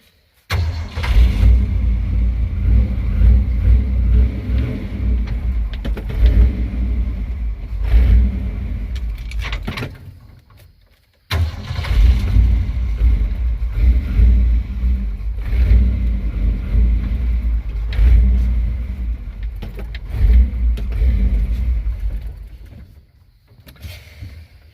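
A badly tuned 347 stroker V8 in a Ford F250 runs loud and rough up close, its low rumble lurching unevenly and cutting out briefly near the middle before catching again and running on, then easing off at the end.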